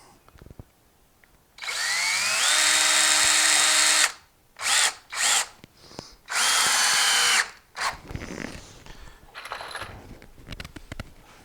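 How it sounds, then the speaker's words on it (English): Power drill driving a screw into a board of a plant stand built for containers and grow bags: a long steady whine, two quick bursts, then another sustained run, followed by light rattling and handling noise. Close and loud, no talking. "And on these, I'm just putting in one screw."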